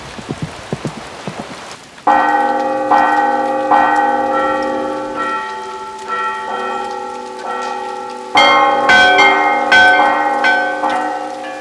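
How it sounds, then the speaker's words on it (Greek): Church bells of several sizes, small and large, rung in test in a forecourt: repeated bright metallic strikes building into clusters of overlapping ringing tones, loud and close, after a brief patter of rain-like noise at the start. "οι καμπάνες, μικρές και μεγάλες, μέσα από τις δοκιμές επιβεβαιώνουν την ετοιμότητά τους."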